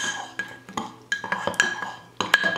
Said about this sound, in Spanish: Le voy a echar toda la botellita, porque ya me queda bien poquito, y lo voy a revolver.